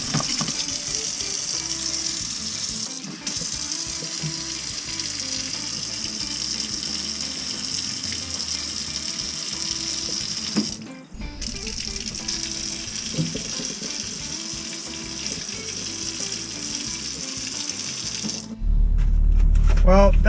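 A repaired Moen kitchen faucet with a newly replaced pull-out spout runs in a steady, close hiss of flowing water for most of the stretch, with a short break and occasional talk alongside.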